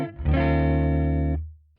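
Clean, unprocessed electric guitar played through a Headrush pedalboard: a single sustained chord rings out loud and dry for about a second, then is cut off, leaving a brief low hum before silence.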